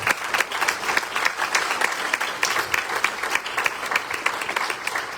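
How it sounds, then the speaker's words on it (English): A dense, steady round of applause from a crowd at a Marine Corps retirement ceremony, loud and continuous throughout with many overlapping hand claps and no talk over it. "That's a round of applause"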